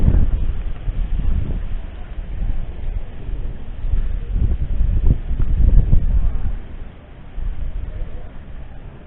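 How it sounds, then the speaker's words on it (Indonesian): Wind buffets the microphone at a lakeside fishing spot at Situ Gede in Bekasi, a dull, continuous rumble that surges and eases in gusts throughout. "Ada angin juga."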